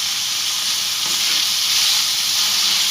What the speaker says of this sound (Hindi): इसको 2 से 3 मिनट के लिए हम इसी तरीके से इसको भूनते रहेंगे अच्छी तरह।